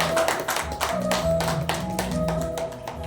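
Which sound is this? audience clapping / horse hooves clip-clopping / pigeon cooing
audience clapping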